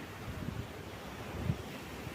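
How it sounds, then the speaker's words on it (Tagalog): Ocean waves wash against the rocky coast at Long Chao Kok, Macau, after rain: a low, continuous rumbling surf with wind noise buffeting the microphone and a couple of faint thumps. "yung mga alon yung naririnig natin."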